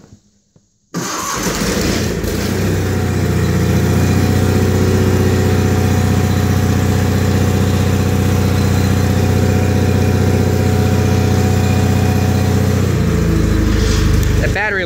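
A 1987 John Deere 316 lawn tractor engine cranks briefly after a second of silence, catches, and settles into a loud, steady, close-up idle that runs on evenly before cutting off near the end.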